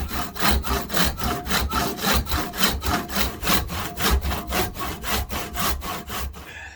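Steady back-and-forth hand sawing through a wooden knife handle blank for a Kephart blade, about three rasping strokes per second, close and loud with no talk.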